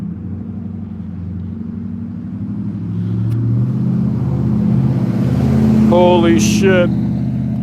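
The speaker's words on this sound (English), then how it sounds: "We got some loud vehicles nearby." Loud engine rumble of vehicles passing close by, swelling in volume, with a voice briefly exclaiming near the end.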